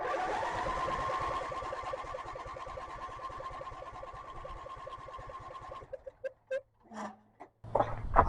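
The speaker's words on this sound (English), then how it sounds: "I turn the key and fuel is starting to fill up in this filter" A riding mower's electric fuel pump runs after the key is turned, a fast, even ticking buzz close by for about six seconds, then stops and leaves a few scattered clicks and knocks.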